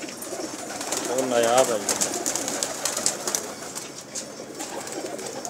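A Fakir Gul pigeon gives a short cooing call near the start, with low rolling coos under a voice talking nearby and light background noise.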